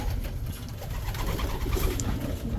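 Soft, low pigeon coos repeat in a pigeon loft under a steady background murmur, with faint rustling and a brief higher chirp.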